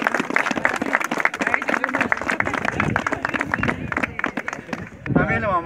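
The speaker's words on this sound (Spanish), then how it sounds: "Un fuerte aplauso para el grupo" An audience at a pilgrimage gathering applauds a group with sustained, dense clapping that fills the whole clip, mixed with crowd murmur and speech on top, and a voice rising near the end.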